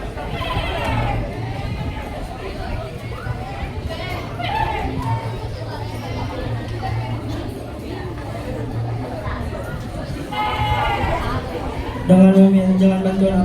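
Sheep bleat amid the noisy chatter of children and a crowd at a school Ramadan event, the cries rising in brief bursts above steady background voices.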